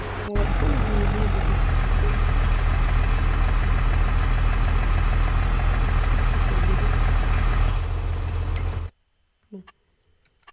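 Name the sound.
vehicle engine in Farming Simulator 23 video game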